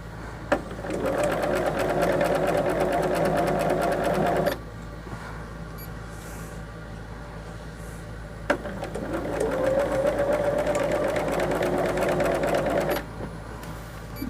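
A sewing machine runs steadily while stitching a quilt border, two long, even whirring runs with a quieter pause and a sharp click between them, close and clear with no talk.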